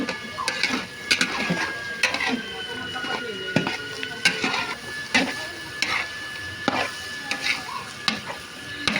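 A ladle scrapes and clanks around a large wok of dinuguan, giving repeated sharp metallic strokes in an uneven rhythm over a faint sizzle, close by, with occasional background voices.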